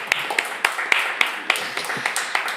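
Studio audience claps in a steady, even rhythm at a live music radio show, close and moderately loud, with a host's voice talking over it.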